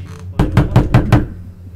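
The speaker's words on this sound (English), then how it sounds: "What'd you hear? A knock." Five firm knocks in steady succession on a door in the horror video game Summer of 58, loud and close, with a low ambient hum beneath and no talk.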